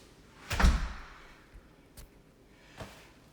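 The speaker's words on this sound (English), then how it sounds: "Coming on in the back door." A back door of a house under renovation opens with a loud thump and knock, followed by a softer clunk and a final thud as it closes, in a quiet interior.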